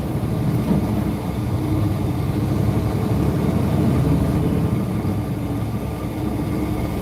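Truck engine running during an exhaust regeneration cycle, a continuous loud low rumble with a steady droning roar and no breaks.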